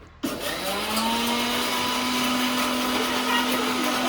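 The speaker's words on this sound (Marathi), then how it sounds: "आमचा इंटरनॅशनल लेवलचा मिक्सर हे आपलं" A kitchen mixer grinder switches on abruptly and runs with a loud, steady high-pitched whir and a rising motor tone that settles into a constant hum, close by and alone.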